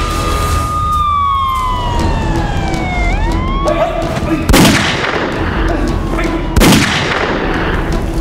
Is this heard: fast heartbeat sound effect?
no